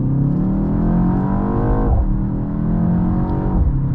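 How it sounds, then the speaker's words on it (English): A 2024 BMW X2 M35i with 312 horsepower accelerates hard in sport mode, its engine rising steadily in pitch with two quick dual-clutch upshifts dropping the revs before climbing again, loud and close from inside the cabin. "A little bit of a nice acceleration test here for you guys."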